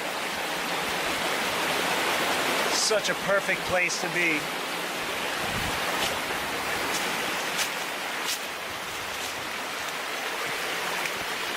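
A babbling creek flows steadily through moss-covered rocks and rhododendron in Pennsylvania woods, a constant close rush of water under which a person speaks briefly.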